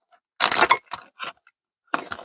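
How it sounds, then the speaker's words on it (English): A plastic bag is handled up close while Canadian snacks are packed into it, making several short crinkling, rustling bursts separated by brief pauses. "let's put this in the plastic bag"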